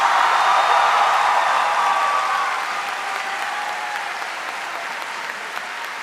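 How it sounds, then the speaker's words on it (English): Loud, sustained applause from a large graduation ceremony audience, a dense wash of clapping that holds steady for several seconds before easing slightly toward the end. "how about a round of applause for Mr. Giaconetta"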